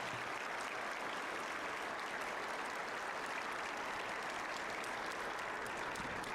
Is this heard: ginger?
no